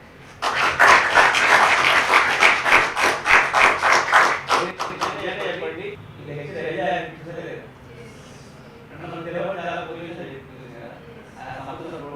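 An audience claps after a lecture, a dense burst of applause for about five seconds that fades out, followed by someone speaking.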